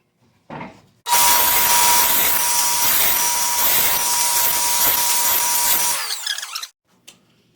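Table saw cutting cabinet door parts, a loud sustained roaring whine for about five seconds after a brief start-up, then winding down, with no talk.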